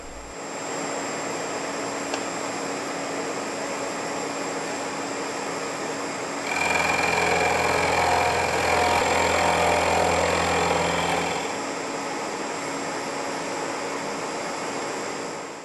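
A milling machine runs steadily, then bites into a metal block, and a louder, rougher cutting noise rises for several seconds before it drops back to the hum.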